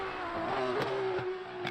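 A race car in the Le Mans Ultimate racing game lifting off the throttle, its engine tone falling and steadying while sharp crackles and pops burst out from the exhaust, heard alone at moderate volume.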